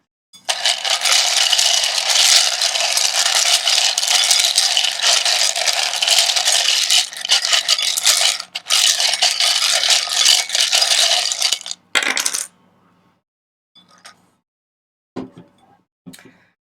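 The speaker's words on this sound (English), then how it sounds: "when I shuffle these and when I shuffle the charms, it can be a bit loud" Tarot tiles and charms are shuffled together, a loud continuous rattling clatter lasting about twelve seconds, then stopping, followed by a few scattered small knocks and taps in near silence.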